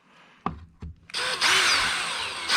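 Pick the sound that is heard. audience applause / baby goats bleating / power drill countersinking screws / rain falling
power drill countersinking screws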